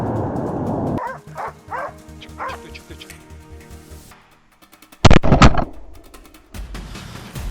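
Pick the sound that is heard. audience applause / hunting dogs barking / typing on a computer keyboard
hunting dogs barking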